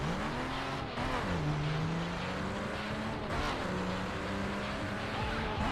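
Racing video game car engine accelerating, the motor note climbing and dropping through gear changes in repeated revving sweeps, with a steady loud roar and no talk.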